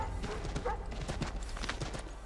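Horse hooves clip-clop steadily on the ground in Assassin's Creed III, a continuous rhythmic trot over game ambience, with a faint whinny-like tone and some background chatter from bystanders.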